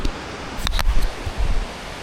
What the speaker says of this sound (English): Just a beautiful stream here with waterfalls and pour-overs.